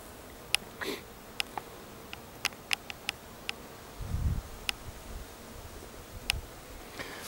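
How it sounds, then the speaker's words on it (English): Honeybees flying around a hive entrance during varroa mite treatment with vaporised oxalic acid, a faint steady buzz with scattered brief sharp clicks and a short low thump, heard alone. "Surprising how many bees are flying today."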